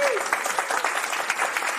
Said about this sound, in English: Let's give a round of applause to our panelists, please.